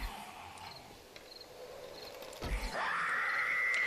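Zombie screams in the survival video game 7 Days to Die: a faint high, strained howl builds near the end and holds as a sustained shrill cry over an ambient game background with scattered clicks.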